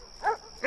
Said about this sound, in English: if the dogs keep barking, I won't be able to stay